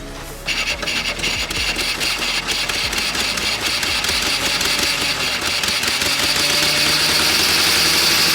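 An abandoned Pontiac Fiero engine being cranked and firing, a loud, steady mechanical churning and rattling drone that starts abruptly and runs unbroken for about eight seconds, with no talking.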